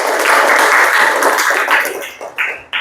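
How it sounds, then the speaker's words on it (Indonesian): A classroom group claps for the first group's presentation, a brief burst of applause that thins out into scattered claps and fades away. "tepuk tangan untuk kelompok 1"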